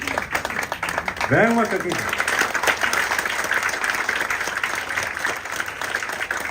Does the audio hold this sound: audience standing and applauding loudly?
yes